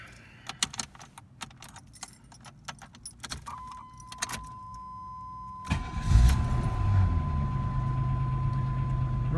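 Keys jangle up close, then a 1991 Chevy Lumina's 3.1 V6 cranks and catches at about six seconds, settling into a steady, loud idle with a faint whine alongside.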